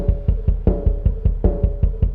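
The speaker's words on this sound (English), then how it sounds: "you can hear that it's running through the filter right now" A punchy drum loop with steady kick and snare hits, its tone muffled and filtered, repeating in a tight rhythm with no voices.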